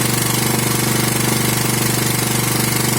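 A propane-fuelled petrol generator runs steadily under a 2 kW load at close range, its engine giving an even, continuous drone with no pauses and no voices.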